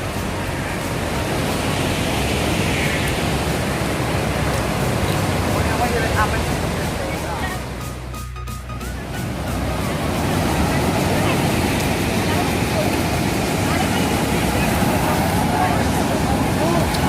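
Rushing water at the Paterson waterfall, a steady broadband roar that fills the whole stretch, briefly dipping midway, with voices talking over it.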